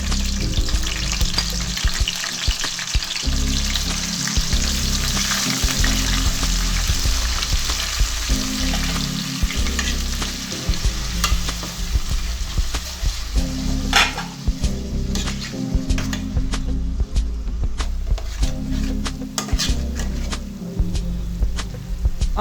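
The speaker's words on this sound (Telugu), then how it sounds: "ఆయిల్ వేడైన తర్వాత జీలకర్ర, ఎండుమిర్చి, కరివేపాకు, ఆనియన్ పేస్ట్ వేసుకోవాలి." Onion paste with cumin seeds, dried red chilies and curry leaves frying in hot oil for a fish curry, a steady loud sizzle with occasional stirring and pot scrapes throughout, no talking.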